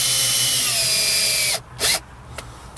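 A power drill drives a screw to mount an Aprilaire humidifier temperature sensor on a house's exterior wall, whining steadily at close range for a second and a half, then a brief second burst and a faint click.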